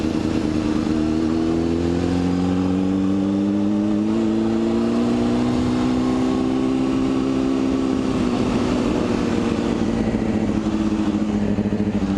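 A Porsche Panamera drives on a city road, its engine a loud, steady hum whose pitch slowly rises, holds, then dips, over constant road noise without talking.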